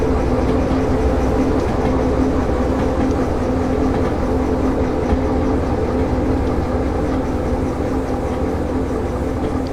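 Freight cars roll steadily along the rails in the train game Derail Valley at a steel mill yard, a continuous loud rumble with faint rhythmic clatter throughout, no talking.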